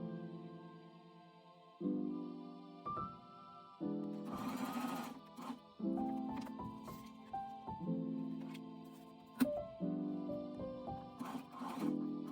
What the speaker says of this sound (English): I'm going to stitch it on my sewing machine